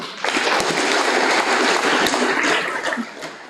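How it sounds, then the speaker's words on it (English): An audience at a school career fair breaks into sustained applause, a dense wash of many hands clapping that holds steady for several seconds and then tapers slightly toward the end. "Yeah, we can clap one more time."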